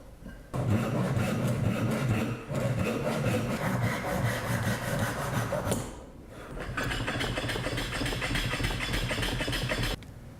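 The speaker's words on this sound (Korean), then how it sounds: "대패질을 합니다." Hand plane shaving the cut end grain of wood pieces for traditional Korean joinery: steady, close rasping strokes run continuously with a short break near the middle, with no speech.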